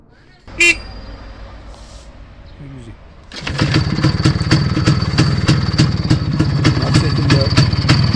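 After a quiet stretch with a short beep, a long-engined motorcycle with new rear tyres starts up and settles into a loud, rapid, steady idle close by.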